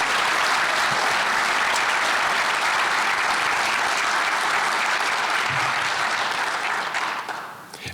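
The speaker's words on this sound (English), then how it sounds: "Round of applause for the finalists," An audience at the 2023 Dearborn Recreation Hall of Fame program claps steadily for the male finalists. The dense applause holds for several seconds, then thins and tapers off near the end.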